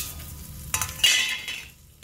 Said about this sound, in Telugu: రండి ఫ్రెండ్స్, గోంగూర పచ్చడికి పోపు వేసుకుందాము.